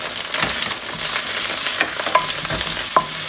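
Ginger and garlic fry in hot oil, giving a close, steady sizzle broken by soft scrapes and a couple of sharp clinks of a spoon against the pan, with no speech.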